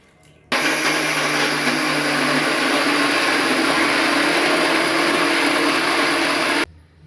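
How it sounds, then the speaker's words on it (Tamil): A mixer grinder runs on soaked rice, grinding it into batter with a loud, steady whirring hum that starts abruptly, holds for about six seconds, then cuts off, and no one speaks. "எல்லாத்தையுமே நல்லா மிக்சியில் கிரைண்ட் பண்ணிட்டேன்"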